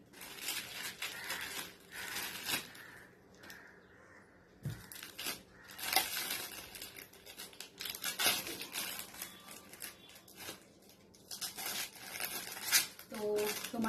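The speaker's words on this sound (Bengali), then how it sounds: "হাতই ছিঁড়ে দিচ্ছি।" A package being torn open by hand during an unboxing, with repeated ripping and crinkling bursts of varying loudness, close by and with no speech.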